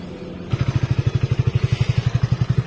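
A motorcycle engine idles with a steady, rapid low thumping pulse that starts abruptly after a brief quiet moment, close and fairly loud.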